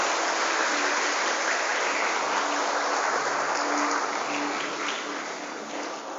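Steady broadband clapping from a school audience at a National Heroes' Day event, dense and continuous, fading slightly toward the end.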